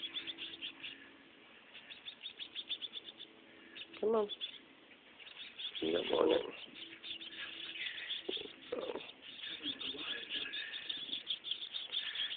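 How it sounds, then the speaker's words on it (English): Hungry baby birds giving repeated faint, high-pitched chirps in a quiet space, with a person speaking softly over them at moments. "The babies are hungry, the hungry baby birds."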